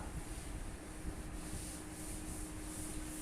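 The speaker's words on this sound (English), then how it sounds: "So I will rub out this." A duster rubs writing off a classroom board with a continuous close, breathy scrubbing hiss that lasts the whole moment without pause.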